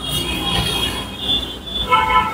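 A metro train rumbles past near the station with squealing wheels and a faint high tone, heard at mid-distance under a steady roar, with no talk.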